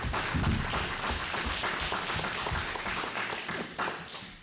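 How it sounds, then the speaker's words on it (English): A round of applause at a Board of Education meeting held at Karopczyc School: a steady wash of many hands clapping at moderate loudness, continuing without a break and tapering slightly at the end. "That's a round of applause."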